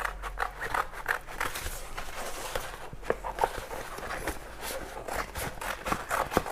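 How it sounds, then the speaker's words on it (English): Scissors trimming cut Oracal 651 permanent adhesive sign vinyl at a craft table, a series of quiet close snips and rustles in an uneven rhythm with no talking. "We're going to go ahead and take our scissors and trim it down."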